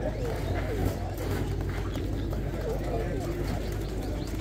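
Pigeons coo amid the busy bustle of the Al-Milhani bird and animal market in Kadhimiya, Baghdad, their soft calls mixed into steady crowd chatter and nearby voices.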